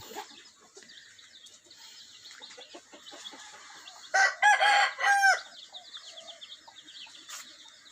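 Chickens cluck and chirp softly in the background on a Thai fruit-orchard farm that also keeps geese, then a loud rooster crow rings out close by before the quieter farmyard noises return.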